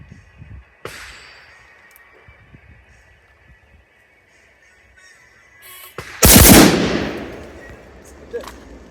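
Handgun and carbine gunshots at outdoor shooting practice: a sharp crack early on, then a very loud blast with a long ringing decay a few seconds later, with quiet talk in between.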